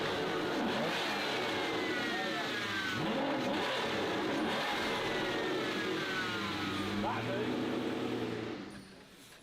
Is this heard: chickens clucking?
no